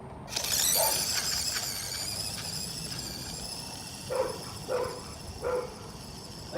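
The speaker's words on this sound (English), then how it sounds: "Sorry about those annoying dogs in the background." Several dogs bark in the distance behind the whine of a small electric motor from a 1/16-scale WPL-C remote-control crawler truck, with a few separate short barks spaced out toward the end.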